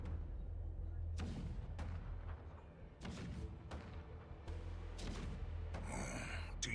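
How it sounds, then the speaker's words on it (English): Cannon fire rumbling in the video game Honkai: Star Rail, a low continuous roar punctuated by several heavy thudding booms and crackling blasts, with a sharper burst near the end. "The rumble of the cannons."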